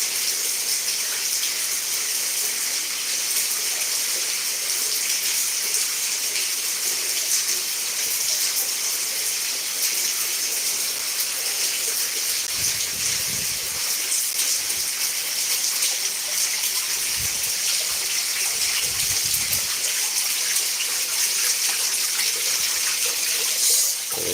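Steady broadband rush of flowing water, continuous and fairly loud throughout, with a few low rumbling bumps partway through.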